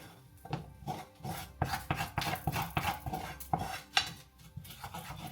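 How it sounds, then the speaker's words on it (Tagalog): A whisk stirs flour into melted butter for a white sauce in a pan, making repeated scraping and tapping strokes against metal in an uneven rhythm, close and moderately loud. "Minimalt ko lang yung butter. Tapos, hinahalo natin yung flour."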